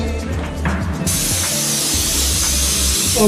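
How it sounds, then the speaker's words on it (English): Spray gun spraying inside cupboards, a steady close hiss that starts abruptly after a second and continues, with a low machine hum and intermittent pulsing underneath. "It's kind of hard when you're spraying inside these cupboards."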